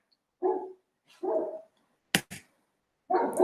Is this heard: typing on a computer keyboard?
no